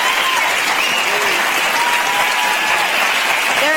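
A talk-show studio audience applauds and cheers, a dense, loud, even wash of clapping that holds steady throughout.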